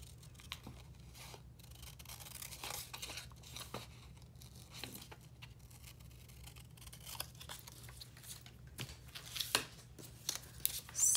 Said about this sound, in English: So let me just cut these down.